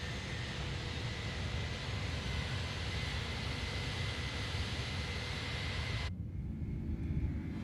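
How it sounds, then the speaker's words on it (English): Airliner cabin in Microsoft Flight Simulator just after takeoff from Changi, a steady broadband engine and airflow roar that dulls abruptly near the end as the landing gear retracts, no voices. "Gears going up."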